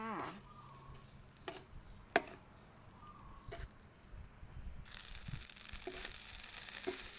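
Carrots stir-frying in an electric pan, a soft steady sizzle with scattered clicks and scrapes of stirring, the frying growing louder and more hissing toward the end.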